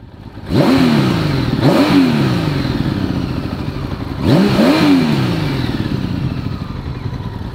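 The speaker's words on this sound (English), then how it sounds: "I feel like I should demonstrate for you guys what I mean by the quickness of the revs." A Honda Valkyrie motorcycle engine, freshly serviced with an oil change, idles loudly close by and is blipped in three quick throttle revs, the first two close together, a pause, then a third that climbs and falls away.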